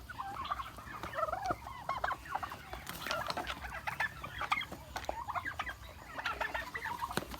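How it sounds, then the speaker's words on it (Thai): A flock of turkeys on a turkey farm in Ubon Ratchathani, Thailand, gobbles continuously in overlapping rapid bursts, loud and close, with no voices. "นี่ยไก่งวงก็"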